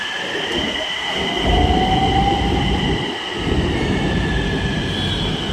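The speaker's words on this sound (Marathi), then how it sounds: "बघा मित्रांनो, आपले मेट्रो आलेले आहे." A Nagpur Metro train pulls into the station with a steady, loud rumble and whine, faint squealing tones above, and heavier surges as it rolls in.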